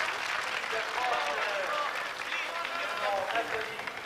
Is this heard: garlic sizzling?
no